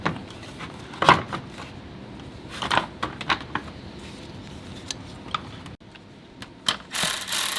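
A ratchet tightening 10 mm bolts on a 2022 Subaru WRX airbox, short bursts of quick clicking spaced through a quiet workshop, close by, with a louder rustle near the end.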